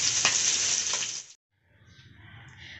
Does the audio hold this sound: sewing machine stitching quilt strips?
no